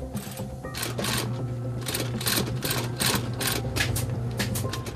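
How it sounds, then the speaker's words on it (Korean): Sewing machine stitching handmade hiking boots in a craftsman's workshop, running steadily and loudly for the whole stretch with rhythmic needle bursts over a constant motor hum. "본격적으로 재봉 작업을 시작하는데요. 기계로 바느질을 해 편할 거란 생각은 오산."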